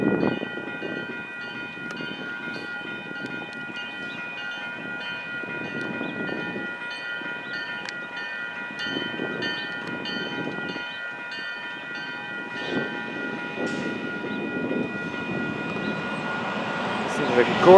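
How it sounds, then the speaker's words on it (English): A CN freight train rumbles past a nearby crossing with a steady low roar and a sustained tonal drone, occasional clanks, and faint voices underneath. "Wait until the train's by."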